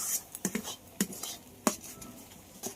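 A spoon stirs lentil and gourd leaf curry in a pan, making a handful of soft, irregular scraping clinks against metal, fairly quiet and close.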